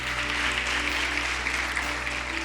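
Church congregation applauding during a service, a steady wash of clapping from many hands that holds evenly throughout with no one speaking.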